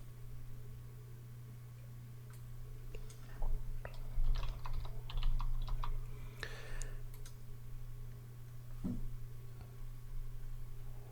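Computer keyboard being typed on to change slide text, quick light keystrokes in a short cluster over a steady low electrical hum.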